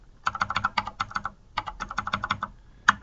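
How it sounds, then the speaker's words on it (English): Rapid keystrokes clatter on a computer keyboard as form details are entered, two quick bursts of typing separated by a short pause and ending with a single sharper key tap, close and clear with no talking. "and of course type in your address."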